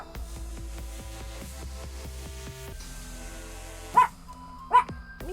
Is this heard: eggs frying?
no